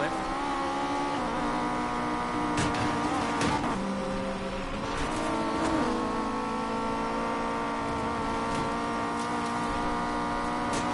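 A Lamborghini racing in Need for Speed Payback, its engine holding a steady, loud roar with small swells in revs throughout, continuous and without pause.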